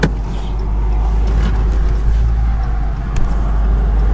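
A car engine runs roughly while pulling out, on a cross-country road trip with the cylinders seemingly full of oil: a loud, steady, low rumbling drone that stays constant and close.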